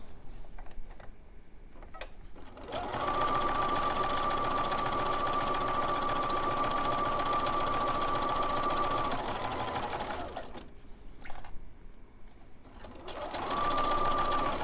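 A sewing machine sews a quarter-inch quilt seam on a layer-cake quilt, a close steady mechanical whir for several seconds, then a pause with faint handling sounds before it starts stitching again.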